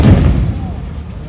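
Two semi trucks exploding into a massive fireball after crashing into the gas pumps at a Flying J truck stop in Thousand Palms, a loud deep boom that rumbles and fades over about a second.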